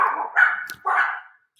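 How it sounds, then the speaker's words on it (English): Two or three close, loud dog barks in quick succession, with no voices. "Sorry for my crazy dogs."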